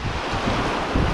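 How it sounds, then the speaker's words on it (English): Strong onshore wind roars over high-tide surf breaking on an open ocean beach, a steady, loud, buffeting rush with continuous wave wash and no voices. "It's high tide and there's a mad wind blowing in off the ocean"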